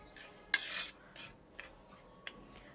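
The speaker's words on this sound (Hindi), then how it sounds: "इसी में हम ऐड कर देंगे हल्दी और सॉल्ट, इन दोनों चीज़ों को अच्छे से मिक्स कर लेंगे इस तरीके से।" Coarsely ground spices being stirred with turmeric and salt for a green chilli pickle, giving a few soft scraping and clinking strokes of a spoon in a bowl, quiet and close, with short gaps between strokes.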